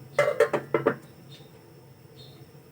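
A metal lid is set onto a cooking pot of liver adobo: four quick clanking taps of metal on metal, close and bright, then a quiet room with a faint soft clink.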